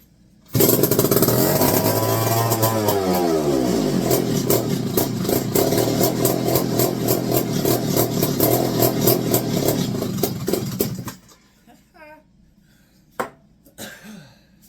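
McCulloch 1-80 chainsaw with a leaking stuffer gasket runs loud and steady for about ten seconds, its two-stroke engine buzzing with a rising note early on, then cuts off, leaving faint clicks and handling noises.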